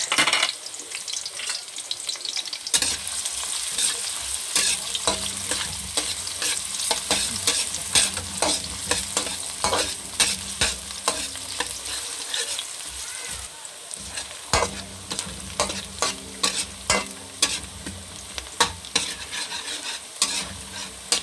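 Garlic and onion sauté in a hot frying pan, with a continuous sizzle and repeated scraping and stirring strokes of a utensil against the pan, close and fairly loud with no talk.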